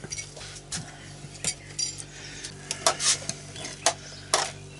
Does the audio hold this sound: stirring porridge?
yes